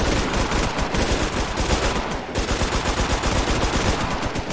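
Rapid bursts of automatic gunfire crackle continuously during a gang shootout in an MTA roleplay video game, loud and dense with only a brief dip in the middle.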